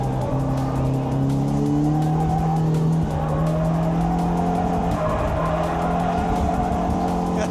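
BMW E36 with a swapped-in B48 engine lapping a race track, its engine droning steadily and loud from onboard while tires squeal and skid through corners.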